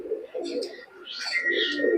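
Young White Commando Golden pigeon, a Pakistani high flyer offered for sale, giving low throaty coos in a steady run, near and moderately loud, with brief higher bird calls mixed in.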